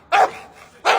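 Small dogs barking angrily, two sharp, loud barks close by with a short pause between them and no talking.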